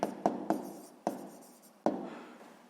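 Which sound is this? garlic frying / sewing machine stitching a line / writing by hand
writing by hand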